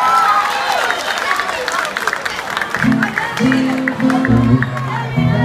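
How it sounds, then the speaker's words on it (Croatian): Audience at a town-day stage event clapping and cheering for the performers, a dense wash of applause that continues under a voice speaking loudly over it. "Veliki aplauz za naše ambasadore"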